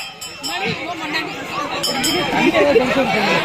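Light clinks of glass soda bottles ring out now and then beneath a busy mix of overlapping voices and crowd chatter at a Kaliamman temple festival.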